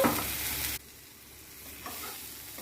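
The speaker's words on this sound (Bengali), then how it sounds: "ভেজে নিব একটু সুন্দর করে সাইডগুলোকে চেঞ্জ করে করে ভেজে নিব" Food frying in a pan for a ripe mango chutney, with salt and turmeric, giving a short sizzle that drops suddenly quieter, then a faint soft stir and scrape, no talking.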